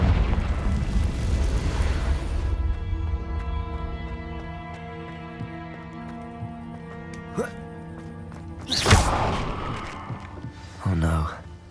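In the video game Hogwarts Legacy on PS5, the Confringo blasting spell sets off explosions: a deep roaring blast at the start, then two sharp, loud bursts near the end, separated by a quieter stretch with a humming tonal background.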